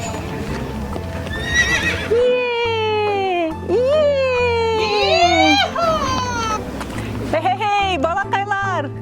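A pony whinnies repeatedly with rising and falling calls, alongside hooves clip-clopping at a steady pace, with background music and some faint voice-like sounds mixed in.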